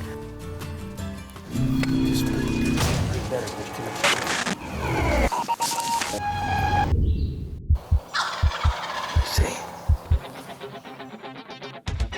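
Eastern wild turkeys gobble in thick pines, with loud rattling gobbles up close and several sharp, distinct calls later, mixed with other outdoor sounds.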